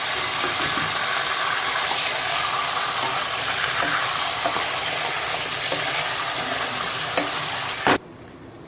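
Steady loud sizzling and crackling of spices tempering in hot oil for chicken kurma, with occasional stirring clinks, continuous until it cuts off abruptly near the end.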